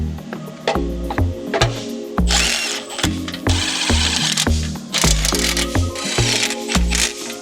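Power tool driving steering rack bolts into a BMW X5 M50i subframe, a series of short, loud whirring bursts with rapid ratcheting pulses, separated by brief pauses, close and with no talking.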